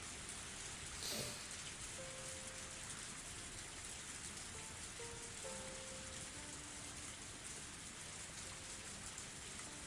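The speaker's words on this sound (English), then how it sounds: "the sound of rain at night on the roof" Rain falls at night on a roof in the Higurashi video game, a constant soft hiss of drops pattering steadily for the whole stretch, with no voices.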